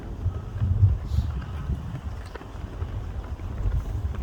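Wind gusts across an outdoor microphone on a cold, windy day at a Wreaths Across America ceremony, making a low steady rumble that swells and fades with no voices.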